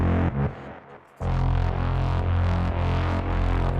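A gritty melodic techno synth run through overdrive distortion and multiband compression, a thick buzzing sustained tone that drops out briefly and then returns at full loudness.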